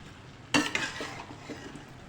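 Potatoes are tipped into a pan of mixed vegetable curry and stirred with a spoon, giving one sharp clatter and scrape followed by a few softer clinks and a gentle sizzle.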